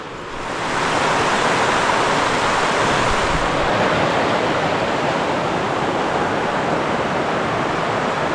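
A river beside the Palmetto Trail's Eastatoe Passage rushes in a loud, steady wash of water noise that swells in within the first second and holds unchanged, close to the listener, with no voices.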